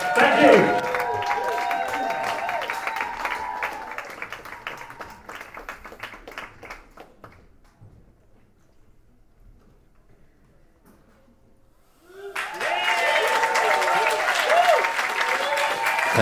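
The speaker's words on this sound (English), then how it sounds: "let's give him a big, big, big round of applause and welcome on the stage" Audience applause at a live jazz quartet concert in a London venue, a loud burst of clapping at the start that slowly thins and fades to near silence, then a fresh wave of clapping swells back strongly near the end.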